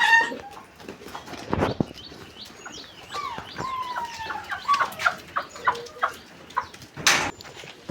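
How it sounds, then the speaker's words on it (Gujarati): A rooster on a farm gives a run of close clucks and short calls, with bird chirps and a few soft knocks in between. "અને આ છે કુકડો આપણો."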